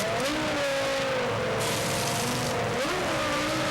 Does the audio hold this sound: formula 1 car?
yes